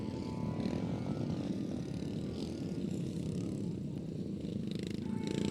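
Royal Enfield 350cc dirt track motorcycles race flat out in a men's novice final, a steady, distant buzzing drone of several engines blending together, fairly faint, with no clear talk.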